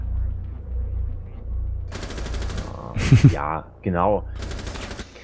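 Bursts of rapid automatic gunfire in Rainbow Six Siege, with a person speaking briefly in German and laughing between the volleys.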